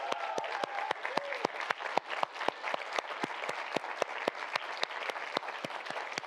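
Audience applause for finalists at a Young Scientist Challenge presentation, a steady dense wash of clapping from a large crowd with a few sharp individual claps standing out near, continuing evenly throughout.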